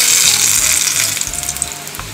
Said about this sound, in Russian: Обжариваем кабачки с двух сторон, пока они не подрумянятся.